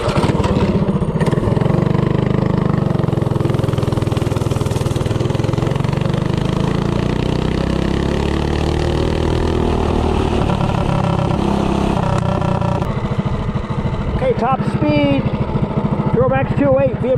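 A DuroMax 208 small engine powers a vehicle run at top speed, giving a steady loud droning roar throughout, with a voice talking over it toward the end.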